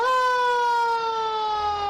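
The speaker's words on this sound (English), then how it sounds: "When the siren goes off" A loud wailing fire siren in Edina holds a steady high tone that slowly drifts lower, close by and continuous.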